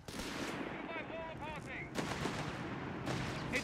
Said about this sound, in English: Taking small arms fire here!